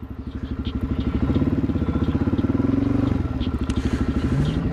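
A Suzuki DRZ motorcycle engine idles up close with a steady, rapid thumping pulse that holds loud and even throughout, with no talk over it.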